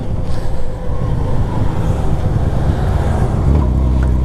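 A 1998 Honda Valkyrie motorcycle rumbles steadily and loudly while being ridden, a continuous low engine drone with road noise that holds level throughout and swells slightly at the end.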